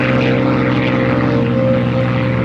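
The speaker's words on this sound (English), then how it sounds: "Flying lead in our fighter flight this afternoon, the German Focke-Wulf Fw-190, following it the American P-51 Mustang" WWII fighters, a German Focke-Wulf Fw-190, an American P-51 Mustang and a British Supermarine Spitfire Mark 9, flying by as a loud, steady propeller-engine drone with a rich throbbing tone that holds throughout, with no talking.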